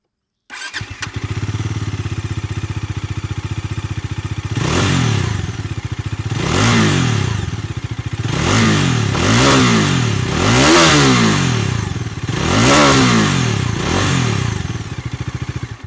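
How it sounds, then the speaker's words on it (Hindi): A 2024 Bajaj Dominar 400 touring motorcycle engine starts and idles with a deep, bassy rumble, then revs sharply about six times in a row, each blip rising and falling, loud and close. "आपको इसका एग्जॉस्ट नोट सुनाता हूँ"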